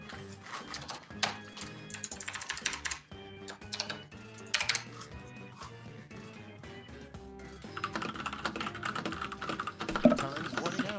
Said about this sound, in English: Someone is furiously typing.